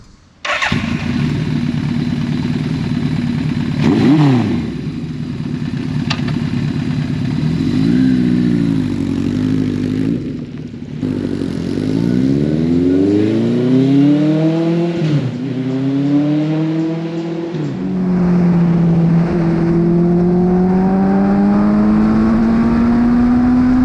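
A 1983 Suzuki GS1100L motorcycle ridden on the road, its big-bore engine heard close and loud as it repeatedly revs up through the gears with rising pitch, drops between shifts, then pulls into a long steady climb.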